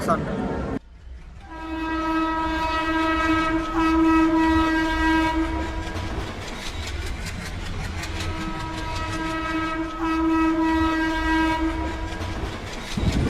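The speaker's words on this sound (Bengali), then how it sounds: "এই মুহূর্তে আমাদের ট্রেন ছেড়ে দিল" The 12381 Poorva Express pulls out of Deen Dayal Upadhyaya station, sounding two long, loud horn blasts over the rumble and clatter of the moving carriages.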